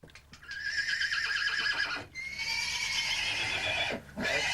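A horse whinnies loudly and close by, with a high shrill neigh, a brief break, then a second long whinny and a few faint hoof clops.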